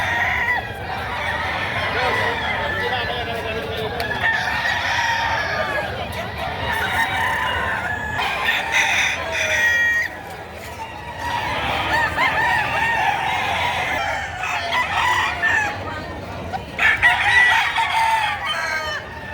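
Roosters crow again and again among clucking fowl at the Padre Garcia livestock market in Batangas, a dense, loud chorus of overlapping calls with no break.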